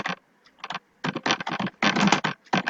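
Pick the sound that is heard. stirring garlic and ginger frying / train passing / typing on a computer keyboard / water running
typing on a computer keyboard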